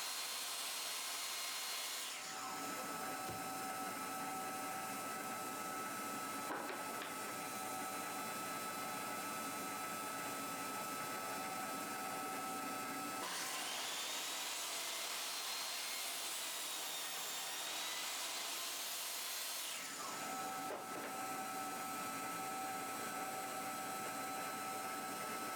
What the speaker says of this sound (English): My pieces were a bit long here, so I went and trimmed them on the crosscut sled.